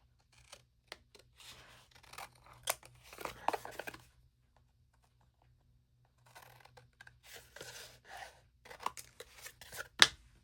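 Scissors snip through paper or card while the corners of an album cover are mitered, a series of close, crisp cuts and rustles that come in two clusters separated by a quiet gap.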